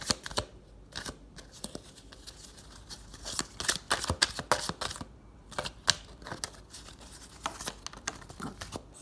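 Tarot cards are shuffled by hand, with close, crisp riffling and flapping bursts in irregular rhythm and short pauses between.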